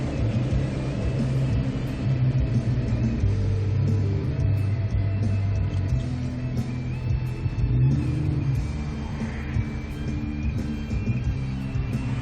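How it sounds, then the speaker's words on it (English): A big bus maneuvering through a U-turn on a city street gives a steady, loud low engine rumble with a whirring drone, continuous throughout and up close, with no talking. "You see this big bus trying to make a U-E."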